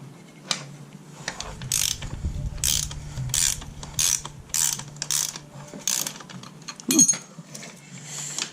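Hand ratchet with a 17mm socket clicking on a front strut nut of a Saturn Ion in a garage: bursts of rapid metallic clicks in repeated strokes, close and moderately loud, with a sharp clank near the end.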